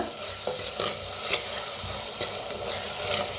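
Dal being dry-roasted and stirred in a clay pot with crushed garlic and green chilli, a soft steady sizzle broken by repeated scraping strokes of the spoon, close and alone with no voices.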